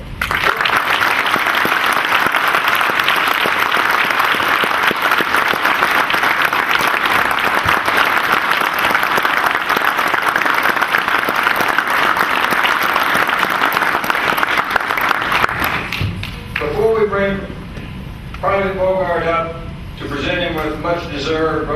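Sustained, loud audience applause fills the room in honor of a WWII veteran receiving his Bronze Star Medal and Combat Infantryman Badge, dense clapping for about sixteen seconds before fading as a voice begins speaking.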